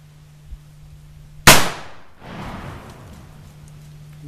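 One sharp, loud gunshot hits a water bottle outdoors on Georgia's Ossabaw Island. The crack comes alone and decays over about half a second, with a faint hum before and after.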